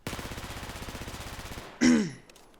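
A FAMAS rifle fired from the hip in Battlefield 4 lets off a rapid automatic burst for about one and a half seconds. The shots are close, even and loud, and a short grunt-like sound follows.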